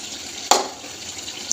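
Water splashes in a short burst into a pan of frying masala for a katla fish curry with potato and cauliflower, followed by a quiet simmering hiss.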